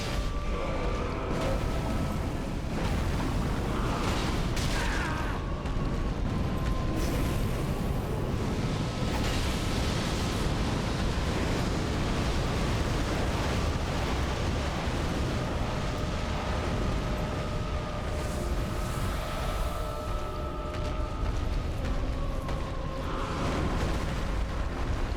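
A huge explosion in the video game Dark Souls 3 roars as a loud, sustained rumble that fills the space for over twenty seconds, with no speech over it.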